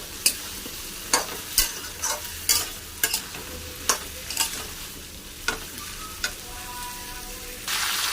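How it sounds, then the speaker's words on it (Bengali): Potatoes frying in a pan for a cabbage dish, with repeated sharp stirring scrapes and clatters over a low, steady sizzle; no talking. "আলুটা ভালো করে ভেজে নেব।"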